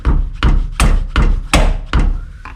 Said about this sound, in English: So you just grab a socket on this side and just tap it.